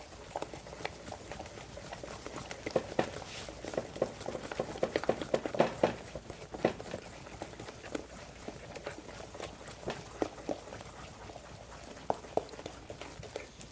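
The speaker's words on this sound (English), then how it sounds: "when you make brownies, most of you know, you give it 50 good stirs" Thick marbled brownie batter being stirred by hand in a bowl, a steady run of soft, wet, sticky knocks and scrapes with no talking.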